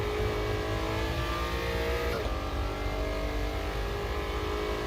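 A Shelby GT350-style car engine in a racing video game holds a continuous, loud, flat-toned rev, a dense steady drone with no pauses.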